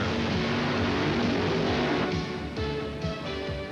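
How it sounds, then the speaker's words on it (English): Don Prudhomme's Funny Car drag racer does a burnout at the 1985 NHRA Gatornationals in Gainesville, Florida. A loud, continuous engine roar fills the whole stretch, easing slightly toward the end. "Don Prudhomme just completed his burnout"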